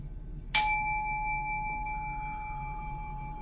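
A small chime is tapped once, giving a sharp bright strike that rings on with clear sustained tones, slowly decaying over a quiet low hum.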